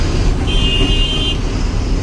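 Steady road noise from a car driving on a fast stretch near the Vashi bridge in traffic, with a brief horn-like tone in the middle, heard from inside the vehicle without speech.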